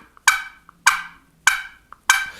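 Four sharp, evenly spaced clucks from a slate turkey call played with a striker stick, each a raspy squawk, with small soft ticks between them.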